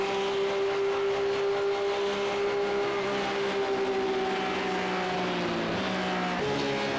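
A race car engine in a racing simulator at Watkins Glen drones steadily at high revs, its pitch shifting slightly and dipping near the end as the throttle lifts, loud and continuous with no talking.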